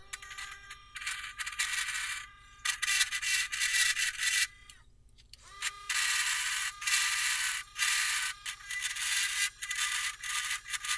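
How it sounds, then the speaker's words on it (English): Sandpaper rubbing on a wooden screwdriver handle in a small workshop, repeated close scratchy strokes in steady bursts with short pauses, no talk. "I went ahead and sanded it just like I did before, up to 320."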